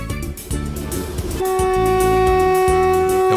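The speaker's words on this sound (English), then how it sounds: "The whistle blows, and the little sugar train starts out on its run around the island." A small sugar-cane train on the St. Kitts scenic railway sounds a loud, steady whistle that starts about midway and holds to the end, following a stretch of rumbling, clattering rail noise as the train pulls away.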